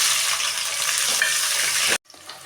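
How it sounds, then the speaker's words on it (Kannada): Onion goes into hot oil already frying with cinnamon, cloves and cardamom for a green pulao, giving a loud, dense, bright sizzle that holds steady for about two seconds and then cuts off abruptly, leaving a faint quieter tail. "ಇವಾಗ ಎಣ್ಣೆಯಲ್ಲಿ ಫ್ರೈ ಆಗಿದೆ ಇವಾಗ ನಾನೊಂದು ಈರುಳ್ಳಿ ಹಾಕ್ತಾಯಿದ್ದೀನಿ"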